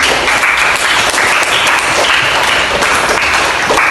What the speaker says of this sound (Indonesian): beri aplaus untuk temannya yang dapat